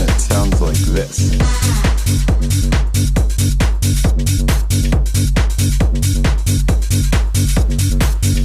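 A loud electronic dance music loop repeating with a steady four-on-the-floor kick, dense synths and hi-hats, and a brief dropout near the start; the track plays throughout.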